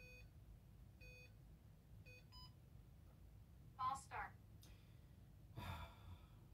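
A few short electronic beeps from a slot car race timer sound at a steady pace over a low background rumble, followed by brief gasp-like breaths.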